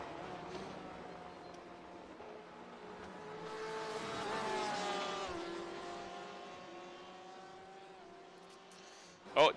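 A Porsche race car engine in iRacing at Watkins Glen, a sustained revving whine that swells as the car nears and fades as it pulls away, under race commentary.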